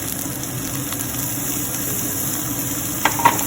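Ginger garlic paste being stirred into frying onions gives a steady sizzle and hiss in the pan, with a couple of faint scraping knocks near the end.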